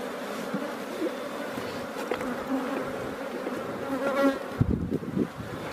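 Honeybees buzz steadily after a beekeeper puffs smoke over the hive, a dense close hum of many wings that swells toward the end with a few handling knocks.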